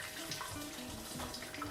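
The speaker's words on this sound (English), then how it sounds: "So now all we're doing is just going to be straining out the chicken stock." Hot chicken stock is poured slowly through a strainer into a pan, a soft continuous trickling and splashing stream of liquid, close but fairly quiet, with no talking.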